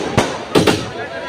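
Firecrackers going off at a public gathering in Malegaon: one sharp crack, then a quick double bang a moment later, loud and nearby against a quiet background.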